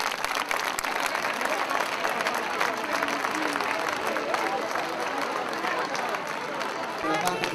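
Audience applause at a citrus festival in Italy, steady dense clapping from an outdoor crowd welcoming a group, with light crowd murmur underneath.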